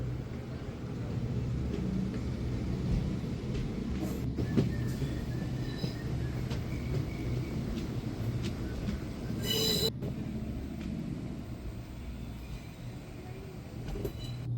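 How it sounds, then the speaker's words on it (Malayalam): A train rumbles steadily as it rolls into Thenmala railway station, with metallic clanks and a brief wheel squeal, the low drone continuing throughout. "തെന്മല റെയിൽവേ സ്റ്റേഷനിലേക്ക് വണ്ടി എത്തി"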